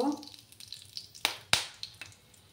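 Bay leaf, cinnamon sticks and cloves dropped into hot oil for a vegetarian Bengali dinner, giving a soft crackling sizzle with two sharp pops near the middle and light spattering throughout, close and fairly quiet.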